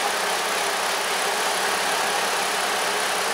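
A Ford Escape engine idles steadily under test with its EGR system commanded on, a smooth, even mid-range hum with hiss that holds constant and close throughout, with no voices over it.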